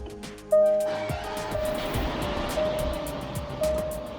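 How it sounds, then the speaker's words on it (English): A Range Rover Supercharged L405 cranks and fires up after a battery replacement, a sharp start followed by a steady engine idle with faint ticking, close and fairly loud. "let's see if the car still starts."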